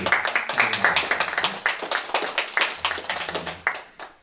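A church congregation claps together at a Sunday service, a run of sharp, uneven hand claps close by that thins out toward the end, with no speech over it.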